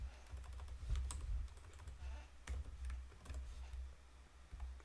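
Quiet, quick keystrokes come in short bursts of irregular tapping as code is typed on a computer keyboard, with no voices over it.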